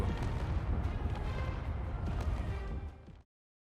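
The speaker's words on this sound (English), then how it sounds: "Captain Shaq, surrounded by explosions, celebrating another crown for ARMCO" Dense, continuous rumbling blasts and booms in the video game Space Engineers crowd together for about three seconds, loud and unbroken, then cut off abruptly into silence.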